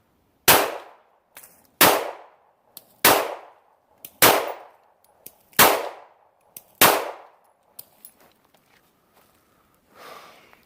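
A Glock 43 subcompact pistol fires slowly at a steel target: seven loud, sharp shots about a second apart, each with a short ringing decay, then a fainter rustle at the end.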